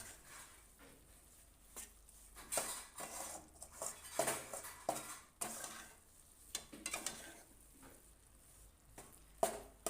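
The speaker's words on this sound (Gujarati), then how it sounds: "તો આને આપણે આવી રીતે આઠથી દસ મિનિટ માટે ઘીમાં લોટને શેકી લેવાનો છે" Wheat flour roasts in ghee in a pan for katlu, with intermittent scraping and stirring of a metal spoon against the pan and a soft sizzle underneath, close and fairly quiet.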